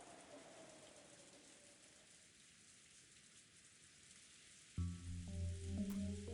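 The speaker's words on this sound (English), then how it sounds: "The silence between the two was filled by the sound of the wind and rain." Steady rain with wind hisses evenly as ambience in the Umineko no Naku Koro ni visual novel, soft and unbroken, until a louder layered tonal sound cuts in near the end.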